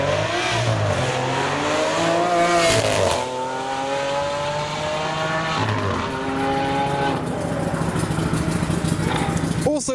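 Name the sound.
Lamborghini Aventador with Huber body kit driving off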